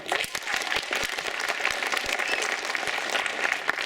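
Applause from the audience fills the hall at a patriotic and religious song festival's results announcement, a dense, steady clatter of many hands clapping throughout.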